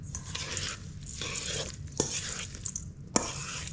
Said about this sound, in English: Then we have 2 tablespoons of crackers, about 3 tablespoons of parsley, and you gently mix that in.